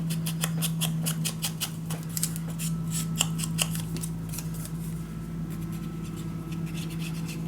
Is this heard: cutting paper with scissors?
yes